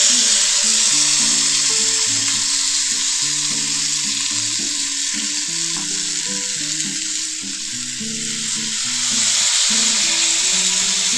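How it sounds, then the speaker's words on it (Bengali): Marinated chicken leg pieces frying in white oil in a frying pan produce a loud, steady hiss and sizzle throughout, with tuneful background music playing underneath. "ফ্রাই প্যানে দিয়ে দিচ্ছি।"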